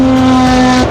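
A Porsche 917K racing car engine holds a loud, steady, close drone for about a second, with a strong even tone and no talk over it.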